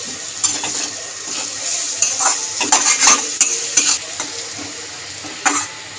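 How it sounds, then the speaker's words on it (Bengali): Onion, chili and garlic stir-frying in a pan for a restaurant-style chili chicken, with a steady close sizzle broken by repeated scrapes and clinks of a spatula stirring, and no talk. "ভালো করে নাড়িয়ে চাড়িয়ে নেব সবকটাকে একসাথে করেই।"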